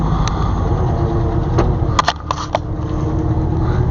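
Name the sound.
two-wheel drive Ford F-250 truck engine driving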